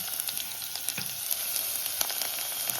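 Ginger and green chilies fry in hot oil in a pan, a soft continuous sizzle with scattered crackles and small pops, close but fairly quiet.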